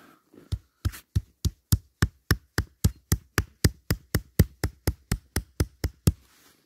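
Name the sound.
hammer striking a bushcraft knife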